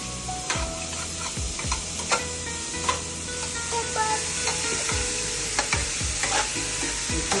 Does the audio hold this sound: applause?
no